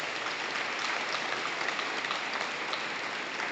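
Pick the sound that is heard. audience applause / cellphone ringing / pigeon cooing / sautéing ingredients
audience applause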